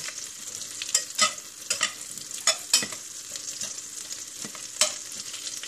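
Butter melts in a pan on low heat for a béchamel while being stirred, giving a soft continuous sizzle marked by several sharp scraping strokes of the spoon, with no talking.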